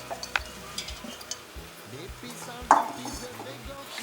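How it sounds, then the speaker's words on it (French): A spoon stirs onions, tomatoes, mint and spices in a pot of lamb biryani, giving soft scraping and light clinks, with one sharper metallic knock midway, over a quiet background. "Voilà, on mélange bien."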